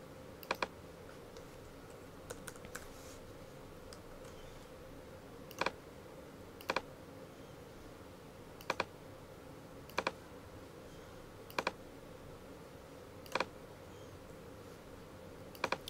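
A computer keyboard is heard in a quiet room, with sparse, sharp key clicks and short clusters of taps spread over several seconds. There is a faint background hum and no talking.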